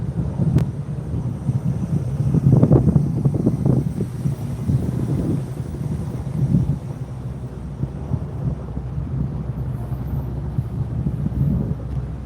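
Wind gusts sweep across an open outdoor area near a 75-plus-acre wildfire in Los Lunas, a steady low rumble of air buffeting the microphone, with stronger surges early on before settling into a constant breezy roar.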